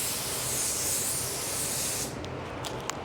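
Automotive paint spray gun hissing steadily and close while blending a coat on a car bumper, a continuous broadband spray that cuts off after about two seconds, followed by a few faint clicks and light handling noises.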